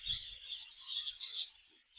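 Birds chirp at a bird market, bright overlapping tweets and calls filling the air close by, with no talking.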